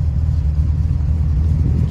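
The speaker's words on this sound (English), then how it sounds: "She idles nice, she purrs nicely." A 1977 Datsun 280Z with a Holley carburetor and header exhaust idles steadily up close, a smooth low rumble holding an even, unbroken tone with no talking.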